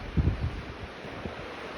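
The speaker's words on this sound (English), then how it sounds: "Absorbs the breeze because it's really windy down here" Gusty wind at a beach in Wales rumbles and buffets the microphone, a low steady roar with a few stronger bursts near the start.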